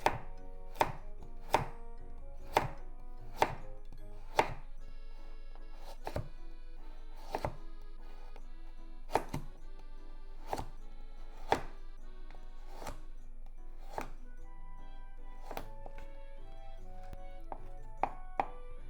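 A knife cuts a vegetable into very thin diagonal slices on a cutting board for shrimp yakisoba, around twenty sharp, close chopping knocks in a fairly even rhythm with brief pauses, alone and without talking.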